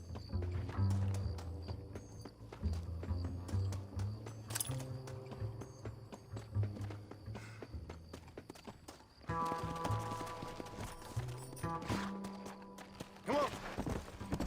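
Horse hooves clip-clop steadily while riding in the video game Red Dead Redemption, a continuous rhythmic trotting under a constant game soundscape, with a brief whinny-like sound near the end.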